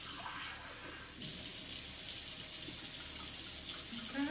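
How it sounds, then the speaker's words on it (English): Water poured from a tap into rice while it cooks, a steady gushing stream that grows fuller after a second and runs continuously up close. "We're gonna add the water."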